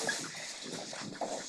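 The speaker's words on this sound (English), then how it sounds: "Is that your dog, Chris?" A dog at a county board business meeting gives short whimpering, whining sounds close by, over a hum of room noise.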